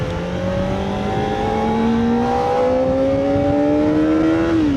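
A car pulls hard in second gear along the winding Hakone Skyline mountain road in Japan, engine note climbing steadily in pitch over a sustained, loud drone with a brief gear-like dip near the end.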